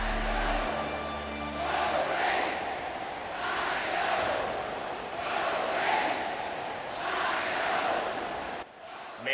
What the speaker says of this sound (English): the crowd is letting everybody know what the deal is out here